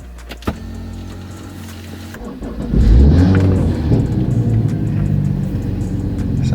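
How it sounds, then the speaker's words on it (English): The engine of a BMW F30 335i with an 8-speed ZF automatic cranks and catches around the three-second mark, then settles into a steady low rumble; a faint click comes just before. "I'm going to go ahead and start the car."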